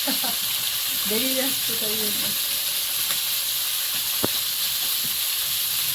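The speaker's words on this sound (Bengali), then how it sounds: "মাছ ভাজা হয়ে গেছে কড়াইয়ে আবার একটু তেল দিলাম" Fish fries in oil in a wok over a clay stove, a constant bright sizzle throughout with a brief voice and a single sharp click in the middle.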